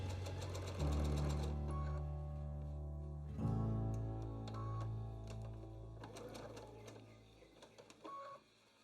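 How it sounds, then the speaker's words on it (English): A sewing machine stitches fabric wedges for a Dresden plate quilt block, its steady mechanical whir running loud and close in two long bursts with brief pauses between them and no talking. "sewing from the top pointed edge down"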